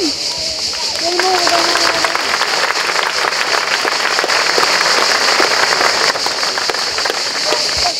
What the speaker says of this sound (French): je voudrais que vous vous applaudissiez vraiment très très fort, tous les bénévoles